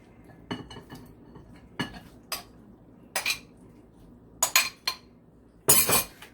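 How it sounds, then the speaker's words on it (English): Chickpeas tipped into a bowl for dahi chana chaat and stirred, giving a series of sharp clinks and scrapes of a utensil against the bowl in irregular bursts, close and fairly loud, with no talking. "Now once it's fully mixed, add chickpeas into it."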